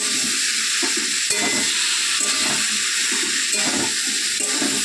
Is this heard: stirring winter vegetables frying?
yes